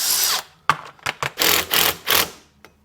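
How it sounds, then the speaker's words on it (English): A power drill whirs in several short bursts drilling a 5mm hole, stopping and starting with brief pauses between them, close and fairly loud. "here I'm just going to drill it"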